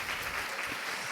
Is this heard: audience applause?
yes